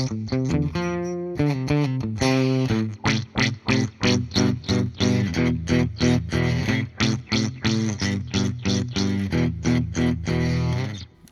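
A 2009 Moog E1 electric guitar in Trans Butterscotch, with its sustainer blended in, plays loud, rich chords and notes as a long run of steady rhythmic stabs. It is heard alone, with no talking.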